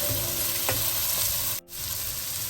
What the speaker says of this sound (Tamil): இது கொஞ்ச நேரம் இப்படியே வதங்கட்டும்.